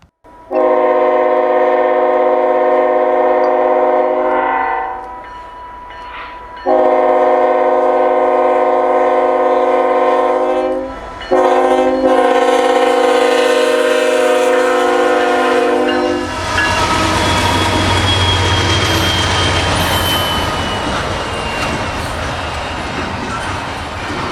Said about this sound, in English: A few minutes later, BNSF 3792 flies by our location.